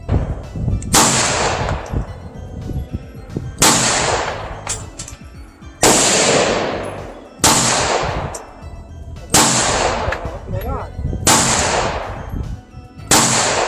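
Walther PPK pistol in .380 ACP fired at a shooting range: six sharp, loud single shots spaced roughly two seconds apart, each with a short ringing decay, no talk.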